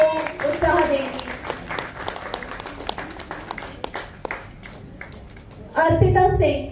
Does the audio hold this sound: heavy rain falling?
no